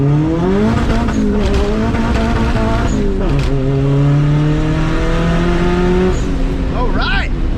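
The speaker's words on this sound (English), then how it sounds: "the first thing I want to do is I want to just go rip it down the road." A Honda Civic accelerating hard down a road, its engine revving up through the gears with clear rising and falling pitch through each shift, loud and close from inside the car, with a voice briefly under the engine.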